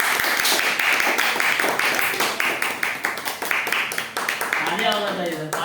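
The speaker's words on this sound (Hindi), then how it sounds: "Welcome on the stage. तालियां होना चाहिए।" Audience applause at a DXN marketing-plan seminar as a star diamond presenter is welcomed onstage: dense, sustained clapping from a crowd that thins toward the end, when voices take over.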